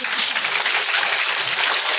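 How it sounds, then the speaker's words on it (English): Dense, steady applause from an audience at a town conservation commission special meeting in Simsbury, a brief burst of many hands clapping together at fairly close range. "Please hold your applause."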